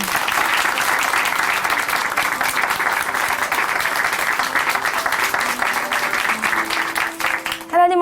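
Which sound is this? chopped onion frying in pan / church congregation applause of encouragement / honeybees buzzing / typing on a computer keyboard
church congregation applause of encouragement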